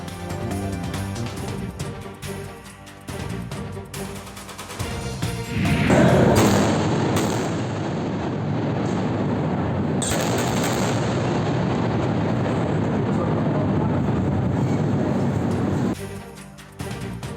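Explosions from Israeli bombing in Gaza at night, with a heavy blast that erupts into a long, loud rumbling roar, then settles before cutting off, against a background of other sound.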